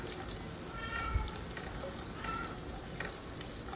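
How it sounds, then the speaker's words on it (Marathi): Rice with cashews, almonds, pistachios and raisins sautéed in ghee in a pressure cooker, a low steady sizzle with occasional stirring scrapes and one soft knock. "तुपामध्ये चांगला परतून झाला की त्यामध्ये भिजवलेलो भात तांदूळ होतो तो घालून घेतलाय आणि परतून घेतलाय"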